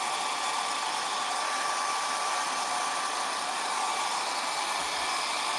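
A hair dryer blows steadily at close range, a continuous loud whooshing hum that holds unchanged throughout with no talking.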